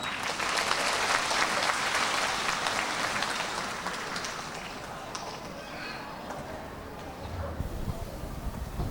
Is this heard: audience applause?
yes